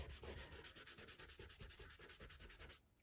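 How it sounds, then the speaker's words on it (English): Pastel colours are rubbed together on paper, a faint, close scratchy rasp repeating in quick even strokes for a few seconds before stopping abruptly. "Bit of rubbing."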